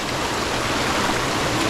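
A stream pours over a small waterfall on the Konkan coast near Hedavi and Guhagar, a steady close rush of flowing water filling the whole moment with no voices.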